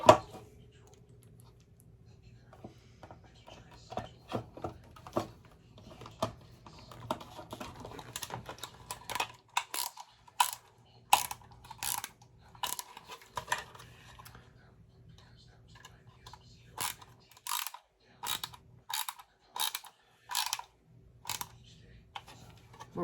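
A ratchet turns a screw during assembly of a Smithsonian motor-works model engine kit, giving repeated sharp clicks in bursts, with irregular clicking early on and denser runs of clicks toward the end, close and fairly quiet.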